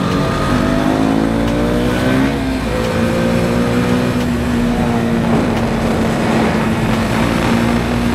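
Motorcycle engine climbing in pitch as it accelerates hard to overtake a car on the road, rising through a gear change, then holding a strong steady drone with wind noise.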